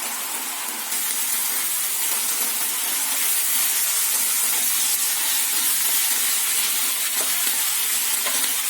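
Spinach wilting in a hot pan gives off a continuous bright sizzle and steamy hiss, steady and fairly loud throughout with only slight crackling fluctuations and no talking.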